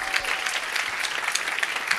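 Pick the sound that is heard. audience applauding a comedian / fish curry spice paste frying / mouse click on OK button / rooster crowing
audience applauding a comedian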